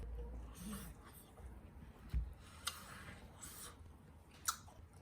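Someone chewing sous-vide pork tenderloin, soft moist mastication close to the mic with a few sharper bites over low room noise, faint and continuous.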